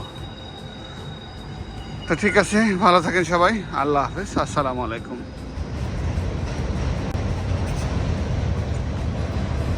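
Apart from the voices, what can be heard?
train passing by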